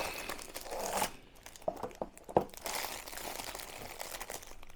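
A package from a European warehouse is opened by hand, with plastic bag crinkling and tearing in irregular bursts, several sharp rustles standing out close to the microphone, and no speech.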